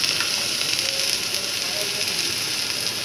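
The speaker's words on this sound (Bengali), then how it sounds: "তেলে ফোড়ন দেবে কালো সর্ষে আর শুকনো লঙ্কা" Black mustard seeds and dry chillies crackle and sizzle in hot oil, a steady, fairly close hiss with faint pops throughout, no voices.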